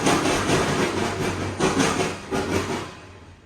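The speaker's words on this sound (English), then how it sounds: "The sound of clickety-clack of a train going over a railroad diamond is something that cannot be beat" Train wheels clack over a railroad diamond beside an interlocking tower, a rapid run of sharp metallic knocks in repeated bursts over a steady rolling rumble, loud and close.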